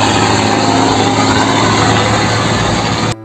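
A toy tanker truck plays a steady loud engine rumble like a heavy truck idling. The hum runs unbroken for about three seconds, then cuts off abruptly, with no talk.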